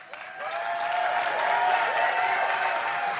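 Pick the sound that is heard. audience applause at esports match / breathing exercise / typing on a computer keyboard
audience applause at esports match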